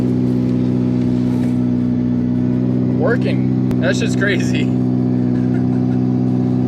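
An old car engine idles with a steady, rough low rumble throughout, while a person speaks briefly over it.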